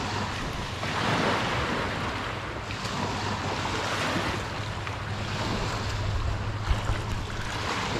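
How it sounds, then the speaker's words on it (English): Surf rolling onto Jade Beach, British Columbia, a steady broad wash of waves with wind buffeting the microphone, close and continuous, no voices. "we're hanging out here on Jade Beach"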